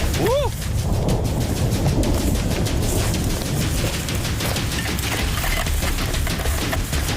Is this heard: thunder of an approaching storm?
yes